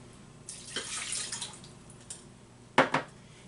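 Water poured from a cup into an Instant Pot pressure cooker fitted with a rack, a light trickling splash followed by a brief louder splash and drip near the end.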